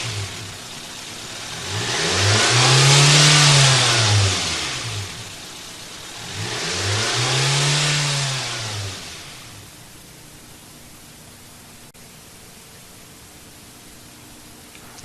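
A Toyota car engine with a throttle position sensor fault runs and is revved. It rises loudly twice in strong surges, then drops back to a quieter, steady hum.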